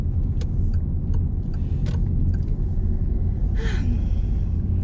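Car interior on the road during a driving-licence practice lesson: a constant low engine and tyre rumble throughout, with a few faint clicks and a brief higher whoosh near the end, no talking.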